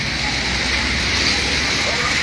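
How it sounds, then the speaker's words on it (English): Heavy tropical downpour in Liberia at a roadside coconut vendor's stand, a loud, steady broadband roar of rain hissing continuously without a break. "It's a heavy downpour of rain here currently."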